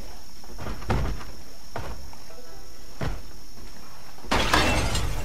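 Window glass shatters in the video game Project Zomboid: several short crunching breaks spaced a second or so apart, then a louder, brighter burst of breaking glass, over a faint steady background tone.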